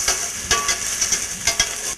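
Onions frying with curry leaves and ginger garlic paste for potato masala make a dense, close sizzle, punctuated by several quick scraping stirs.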